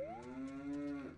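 A loud, close cow moo from the video game Zelda: Majora's Mask, a single drawn-out call rising then holding steady for about a second before trailing off.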